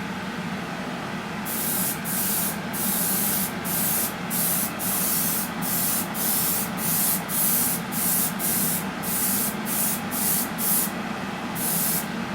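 An airbrush lays a weathering coat onto a Revell Star Destroyer model in short, repeated hissing bursts of steady spray, fairly close, with a low room hum between passes and no talk.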